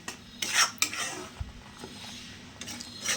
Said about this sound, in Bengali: আবার ওইটাকে ভালোভাবে ঘেটে নেবো